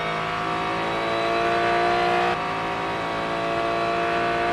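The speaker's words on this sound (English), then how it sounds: "Barnicoat hustles his car to the left-hand side to maximize his apex speed through Le Mans Corner and onto this long straight" Race cars at the Sebring 12 Hours accelerating hard onto a long straight past Le Mans Corner, a loud sustained engine roar with rising pitch and no talk.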